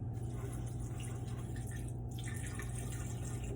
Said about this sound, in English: We're going to put a little bit of water in there.